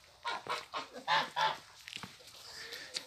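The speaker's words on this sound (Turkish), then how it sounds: "Ön tarafta kazları da var." Several geese honk in a quick run of nasal calls, five or six close together, then fainter scattered calls trail off.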